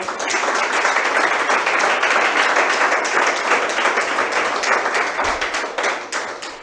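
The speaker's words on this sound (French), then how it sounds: "Ils vont se manifester par leur applaudissement" A studio audience on a French-language TV talk show claps together in a lively, even burst of applause that stays loud for several seconds, then thins out near the end.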